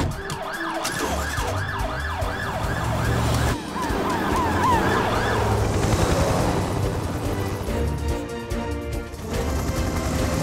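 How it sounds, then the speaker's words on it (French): Cartoon mountain rescue ambulance siren wailing loudly and steadily, a repeating two-tone pattern over vehicle engine noise and dramatic background music. "Hélène, suis-la avec l'ambulance des secours en montagne."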